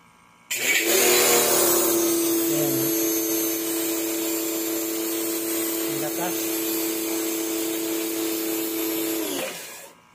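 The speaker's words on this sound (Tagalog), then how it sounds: "Yan po yung kanyang pinaka-final na setup ng pressure washer." Kawasaki pressure washer motor starts with a sudden loud steady whine, runs evenly for about nine seconds, then winds down as it shuts off automatically.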